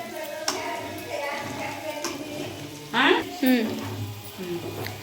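Mutton liver pieces frying in oil in a pan, giving a steady close sizzle with a couple of brief louder hissing flare-ups and light stirring, while a person talks over it.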